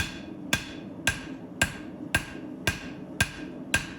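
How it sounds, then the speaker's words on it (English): Twist Damascus steel Bowie knife blade being hammer-forged along its edge bevels: eight evenly spaced, ringing hammer blows about half a second apart, close and fairly loud with no talk. "I then move on to forging the edge bevels"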